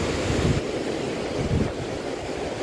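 Sea waves wash steadily onto a litter-strewn shoreline lined with houses, a broad close roar with gusts of wind buffeting the microphone and no one speaking.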